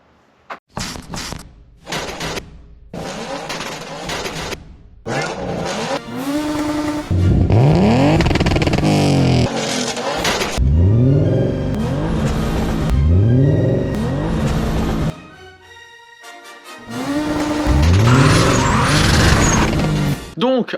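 A turbocharged BMW E36 325i running at 1.5 bar of boost, its engine revving hard in repeated rising pulls with loud, close exhaust roar, some gaps of quiet between bursts and occasional tire noise.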